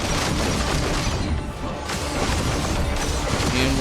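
Video game explosions and crashing impacts in 33 Immortals, loud and dense, layered booms and debris rumble filling the scene with a short dip midway.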